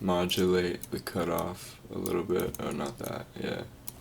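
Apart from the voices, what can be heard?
No everyday noise stands out behind the speech.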